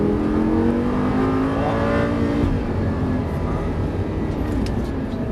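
A Lamborghini LP 560-2 rear-wheel-drive car on the Dreux race circuit, its engine note rising and then dropping back under light throttle. The sound is loud and close, with a steady roar beneath it.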